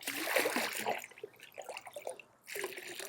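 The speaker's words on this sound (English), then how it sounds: "I'll put some pool water in it" Pool water trickles and splashes quietly into an empty jug in a short, uneven pour, fading briefly before another burst of gurgling, faint and close.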